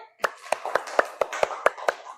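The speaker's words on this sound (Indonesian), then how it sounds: "Tepuk tangan untuk Malik" Classroom clapping for a student, nine evenly spaced single claps from one nearby pair of hands in a quiet room.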